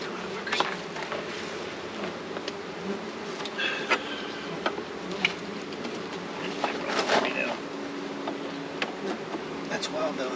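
Queenless honeybees swarm around a hive box, their dense, steady buzz close and continuous, with occasional louder passes of individual bees near the listener.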